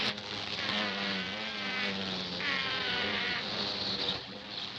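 A stingless bee gives a prolonged, continuous buzz, a steady droning hum that wavers slightly in pitch and holds for several seconds at low volume.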